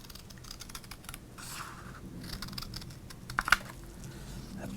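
Scissors cut through 1987 Topps baseball cards up close, giving a run of fine crisp snipping and scraping clicks, with a brief louder snap near the end.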